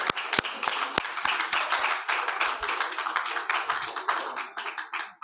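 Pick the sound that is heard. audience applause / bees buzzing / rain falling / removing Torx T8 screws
audience applause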